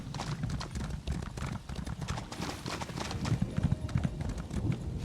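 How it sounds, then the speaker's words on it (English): Rapid, rhythmic hoofbeats of a galloping horse in the video game ESO: Blackwood pound continuously, fairly loud, with a busy mix of background noise. "Get on your horse, man."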